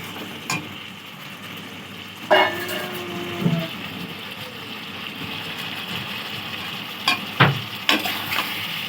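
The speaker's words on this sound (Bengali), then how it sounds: "ভালো করে কষিয়ে নিয়েছি" Katla fish curry masala with slit green chilies being stirred in a pan, scattered soft scrapes and clinks of the spatula over a faint low sizzle, with a few sharper knocks near the end.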